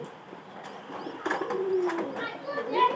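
Pigeons coo and murmur in a loft where chicks sit with adults, soft layered calls close by under a busy, rustling background that rises toward the end.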